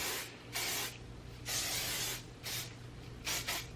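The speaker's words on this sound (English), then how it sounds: "I also have this hairspray that I'm just going to lightly spray" Hairspray misted lightly onto hair in about four short hissing bursts, each a second or so long, close and soft over a low background hum.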